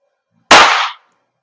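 A WE Glock 17 Gen 5 airsoft gas blowback pistol fires a single sharp crack with a gassy hiss that decays over about half a second, loud and close in otherwise silent surroundings.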